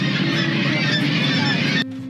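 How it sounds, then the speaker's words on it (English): Thousands of seabirds on Gull Island, a rocky seabird colony in El Salvador, calling loudly all at once, a dense overlapping chorus of harsh honking cries that cuts off abruptly near the end. "The birds are so loud."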